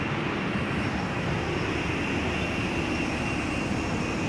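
Strong, continuous broadband hiss of compressed air escaping from a leaking brake system on a stalled bus, loud and close, holding steady without pause and with no voices over it.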